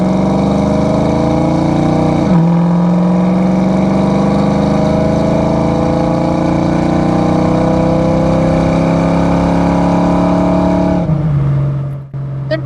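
A 1990 Ford Mustang LX Fox body coupe with a 5.0 V8 and automatic transmission drives steadily, its engine droning and climbing through a long gear, shifting once near the start and again near the end, loud and close with no talk.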